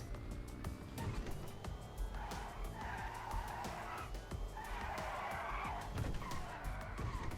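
Hyundai Ioniq 5 electric SUV driving in GTA 5, with repeated bursts of tire squeal and skidding over a low steady rumble and scattered clatter, fairly quiet throughout.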